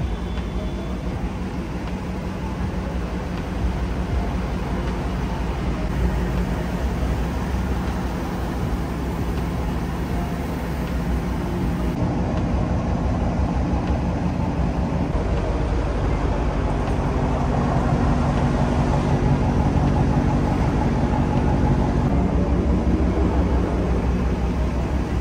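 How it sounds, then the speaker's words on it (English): A 2023 Dodge Charger R/T driving, giving a steady, loud low rumble of engine and road noise that holds throughout with no talking. "I'm gonna just give you some snippets of the car now."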